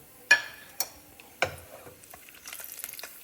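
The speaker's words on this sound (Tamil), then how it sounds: "இப்போ இந்த நெய்யில் வந்து இந்த திராட்சையும் முந்திரியும் வறுத்துக்கலாம்." Raisins and cashews fry in ghee, giving a few sharp, close pops and clinks spaced through the first second and a half, then a soft, quiet crackle near the end, with no voices.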